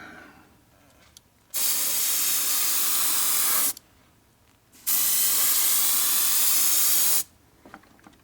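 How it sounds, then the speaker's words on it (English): An airbrush or spray can coats the chassis of a model ferry van with paint, two long steady hisses of a couple of seconds each, close and loud, separated by quiet gaps. "So I'm painting the chassis here."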